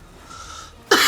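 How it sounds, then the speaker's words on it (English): Near-silence gives way to one sudden, loud, close cough from a man, which is cut off at the end. "Excuse me, I need a cough."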